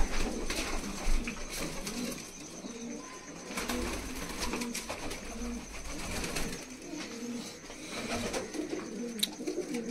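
Malwai pigeons coo repeatedly in a loft, soft rhythmic throaty calls close by, mixed with rustling and faint background noise, no speech.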